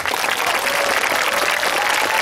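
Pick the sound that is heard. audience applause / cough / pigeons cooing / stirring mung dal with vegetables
audience applause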